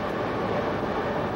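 Two large jet-style ventilation fans roar steadily inside a 2,000-foot road tunnel in Kobe, a loud, unbroken broadband rush filling the space.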